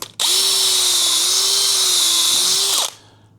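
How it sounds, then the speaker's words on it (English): Power tool plunging 8mm dowel holes into a vertical MFT-style panel, one loud continuous high-pitched whine lasting nearly three seconds, starting abruptly and winding down at the end, close by. "a couple of plunges with the 8mm for the dowel"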